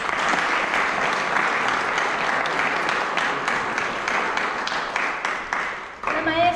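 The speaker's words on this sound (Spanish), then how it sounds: "la maestra Sara Vélez, por quien pido un aplauso, por favor" Sustained applause from an audience at a book presentation, dense and steady clapping for several seconds before it thins and a voice begins at the end.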